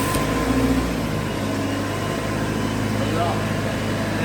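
A Tsuzumi TWD 600 welding generator running under test, a steady mid-level engine hum beneath people talking over it.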